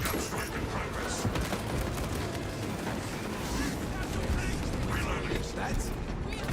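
Servo gun strike firing in the Space Marine 2 video game, a dense continuous barrage of loud rumbling blasts and rapid gunfire that fills the whole stretch, with game voice lines over it.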